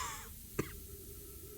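A character in the Outer Wilds video game coughs twice, short sharp coughs spaced about a second apart over a quiet, low background hum.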